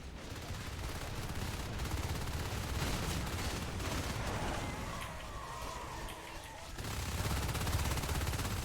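Sustained rapid gunfire pounds an alien hive in the game Natural Selection, loud and continuous with dense battle noise, briefly thinning before surging back at full intensity.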